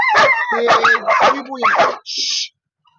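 A dog in training gives four loud, close, howling barks in quick succession, each with a wavering whine. A brief hissing burst follows, and then the sound drops to silence.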